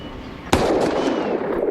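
A single loud gunshot from a Butch Cassidy and the Sundance Kid film scene, a sharp crack followed by a long, sustained noisy tail.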